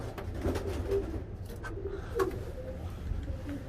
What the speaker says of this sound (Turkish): Bunlar bağlı kuşlar